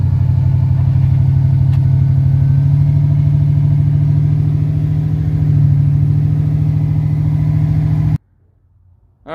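A GMC truck with a 6-liter V8 and a sizable aftermarket cam idles loud and close, its lumpy, choppy idle surging slightly, before cutting off abruptly near the end.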